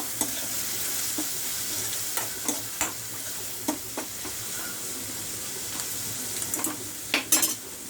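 Onions frying over a lowered flame in a kadai pan, a continuous soft sizzle punctuated by repeated metallic spatula scrapes and taps, ending in a quick cluster of clatters.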